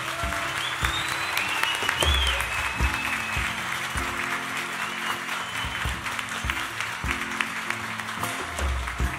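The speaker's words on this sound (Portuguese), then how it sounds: "Uma salva de palmas a essa equipe aqui." A crowd claps in sustained applause for several seconds at a men's church retreat, dense and even, with a few low thumps mixed in.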